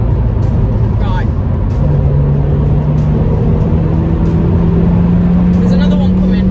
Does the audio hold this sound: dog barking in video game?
no